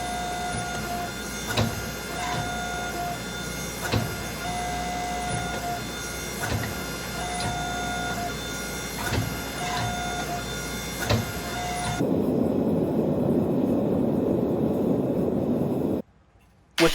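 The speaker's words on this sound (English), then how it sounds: "Watching the press do its job and seeing how the steel moves is just such a satisfying thing to watch." A forging press works a Damascus steel billet, giving a steady mechanical hum with regular dull thumps about every second, then a louder, rougher roar that cuts off abruptly near the end.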